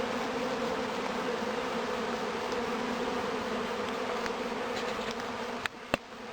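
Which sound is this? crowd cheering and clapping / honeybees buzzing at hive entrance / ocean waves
honeybees buzzing at hive entrance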